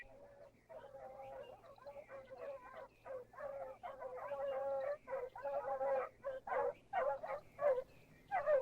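Cartoon dogs barking in an animated children's series, a fast run of yappy, repeated barks and yips coming in quick bursts, fairly faint and close together.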